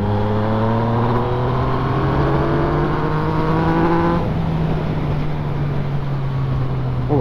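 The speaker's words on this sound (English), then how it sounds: "Just sort of getting used to the bike, having a feel of it, seeing what the response is like." Onboard a Yamaha XSR 900 motorcycle, its engine pulls steadily through rising revs, then shifts and drones on at a lower pitch, loud and continuous under wind noise.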